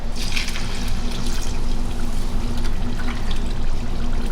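Water poured into a concrete mix for vase sculptures, a steady close splashing pour running continuously with a low rumble beneath.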